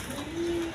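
King pigeons, fresh orange-beaked breeding pairs, give a short close coo, a single sustained low note over faint background noise.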